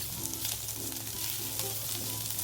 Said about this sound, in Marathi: सात आठ लसणाचे पाकळे त्याही परतून घेऊ छान परतून घ्यायचा कांदा